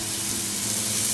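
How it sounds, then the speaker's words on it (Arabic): Sliced onions and olives fry in hot oil in a pan, making a steady, gentle sizzle and hiss throughout, fairly soft and constant. "نخليه يقلي"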